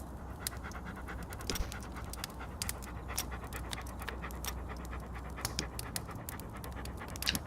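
A dog pants rapidly and steadily in a video game set in freezing weather, close and moderately loud, with light scratchy clicks mixed in and no talk.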